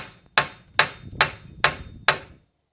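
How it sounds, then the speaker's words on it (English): Five sharp hammer blows on a metal washer while replacing a Hyundai Santa Fe front wheel bearing ring out at an even pace, each a crisp metallic strike with a short decay, then silence. "Sometimes you got to hammer it to loosen the washer."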